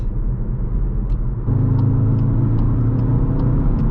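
A 2022 Skoda Octavia vRS driving on a road at a steady cruising pace, giving a loud, continuous engine and road rumble heard from inside the cabin, with a slight step up in drone partway through.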